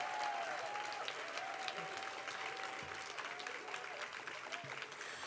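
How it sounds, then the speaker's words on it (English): An audience applauds the Town and Gown scholars as they stand, a dense, continuous wash of clapping from a crowded room, heard at moderate distance and fading slightly toward the end. "please stand so we can give them a round of applause"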